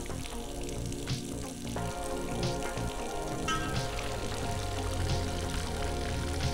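Water runs steadily from a bathroom faucet in a video game, a continuous splashing pour with faint clinks mixed in, loud and close, with no talk over it.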